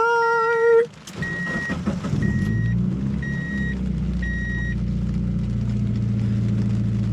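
A Mazda Miata cold-starts in the rain, a brief tone cut by the crank catching into a low, steady idle rumble, with a repeating electronic chime beeping four times over the engine.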